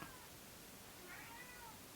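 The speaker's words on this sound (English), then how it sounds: "If you hear a cat shouting in the background" A cat meowing indoors somewhere in a home, a faint, drawn-out wailing call heard in the background against steady room noise, with no talking.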